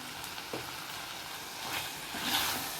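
Spices with Kashmiri chilli powder frying in a pan make a constant hiss, with a couple of light stirring knocks and a small swell of sizzle toward the end.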